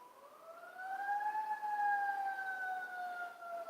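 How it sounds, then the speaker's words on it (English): An emergency siren, from a fire engine or ambulance, wails past in one slow rising and falling sweep, loud and steady with no talk over it. "fire engine"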